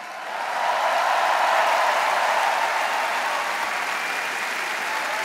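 Sustained crowd applause fills a large arena at the Eurovision Song Contest 2015, a dense, even roar of clapping that swells in after half a second and holds steady to the end with no voices over it.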